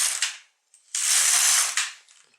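An LK150 knitting machine carriage runs across a row. Two short rasping clicks are followed by a longer, steady, hissing ratchety slide, close and clear with no talking.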